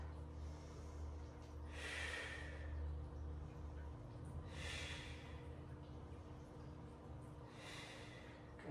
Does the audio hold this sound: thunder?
no